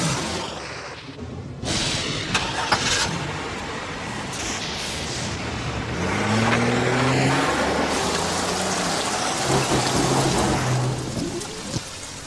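Heavy rain pours down in a steady hiss with occasional louder splashes, close and dense, while a low tone drifts beneath it; no one speaks.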